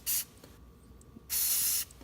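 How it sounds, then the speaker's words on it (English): Andis Cool Care aerosol sprayed onto cordless Wahl hair clippers gives two short, close hissing bursts separated by a brief pause, with nothing else audible. "I just spray down the equipment."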